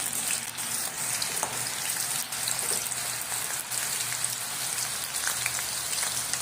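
Green chilies frying in oil over a low gas flame, an even, dense crackle and patter like rain on a surface that runs on steadily throughout.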